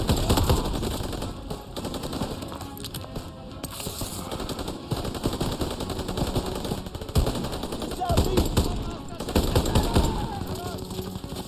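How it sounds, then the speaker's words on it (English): Bren light machine gun bursts in the Call of Duty WW2 video game, a French Resistance mission in Paris, chattering in rapid automatic volleys over dense battle noise, with some talk mixed in. "just use the British light machine gun"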